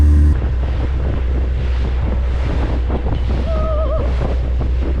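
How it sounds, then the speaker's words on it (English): Heavy wind buffets the microphone while waves surge and splash over the back of a small boat at sea off the Isle of Skye, a constant loud roar with water sloshing close by. "The back of the boat's getting swamped by the waves."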